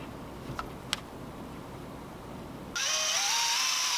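A drill with a 1/4-inch Forstner bit bores a hole in a handmade lipless crankbait lure body. A couple of faint clicks come first, then the drill starts with a sudden, steady high whine that rises in pitch.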